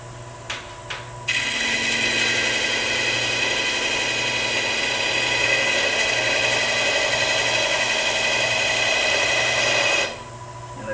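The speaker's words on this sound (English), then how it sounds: "Low speed for the sanding disc." A sanding disc on a lathe, run at low speed on a tagua nut, whirs up and runs steadily with a constant grinding hiss for several seconds, then spins down; close and loud.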